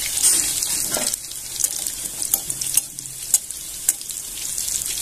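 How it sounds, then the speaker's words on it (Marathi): Spinach and cabbage bhaji deep frying in oil over a low gas flame, a steady broadband crackle with a few sharper clicks and faint clinks of utensils, continuous and close, with no voices. "बाकीचे भजी आपण असेच तळून घ्यायचे सगळे कमी गॅसवर"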